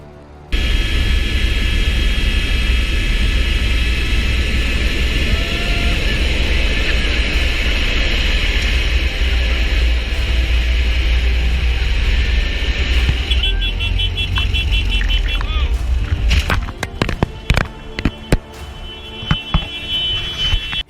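An airplane touches down hard on an ice runway: a loud steady roar of engines and rushing wind gives way to rattling, banging and scraping bursts in the last seconds.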